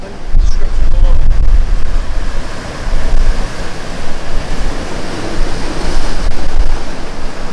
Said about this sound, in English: Big rocks. Found an algorithm. Big waves.